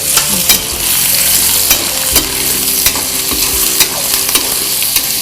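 Spices and green chilies sizzle loudly in a tempering pan while a utensil scrapes and stirs repeatedly in a quick, irregular rhythm, close up and without speech.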